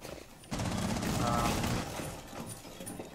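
Rapid automatic gunfire in the tactical shooter Rainbow Six Siege, a loud dense burst lasting over a second amid game noise, with players talking around it.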